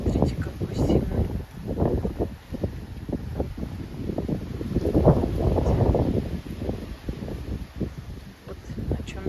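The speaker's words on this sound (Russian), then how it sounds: "ветер, смотрите, какой сильный." Strong storm wind gusts through cherry and plum trees in a garden, a broad rushing roar that swells and fades under a voice talking throughout.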